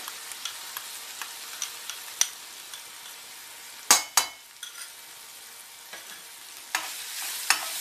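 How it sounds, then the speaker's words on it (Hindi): Light sizzling of garlic and ginger frying in a wok with occasional scraping and stirring clatter, a couple of louder metallic knocks midway, close by and without speech. "ये देखिए लहसुन और अदरक भून चुका है"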